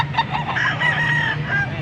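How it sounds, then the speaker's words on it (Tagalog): Roosters crowing and chickens clucking among a busy flock at a poultry market, several birds calling over one another at close range. "Nandito na naman tayo sa bintahan ng manok."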